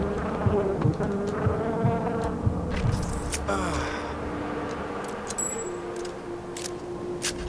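Bees buzzing in the video game Far Cry 4, a continuous insect drone running under game sounds and occasional voice, steady throughout.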